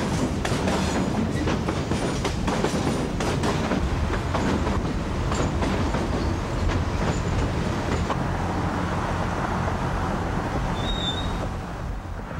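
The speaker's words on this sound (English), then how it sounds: "The Juice Train makes four river crossings in the first 34 miles of its trip to New Jersey." Juice Train freight train crossing a river bridge near Tampa, a steady rolling rumble with clattering wheel beats that gradually eases and softens toward the end.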